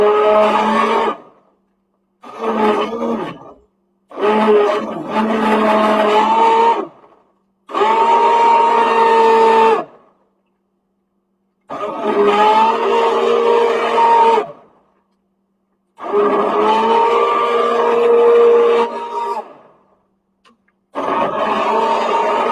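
A blender purees cauliflower kale soup with carrot in loud, roaring bursts, about seven pulses of a second or several seconds each, separated by silent pauses.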